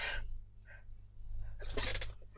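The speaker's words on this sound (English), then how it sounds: "Oh, that was me sneezing." A quiet, close sneeze with a sharp breathy burst, preceded by soft sniffs and inhales over a low steady hum.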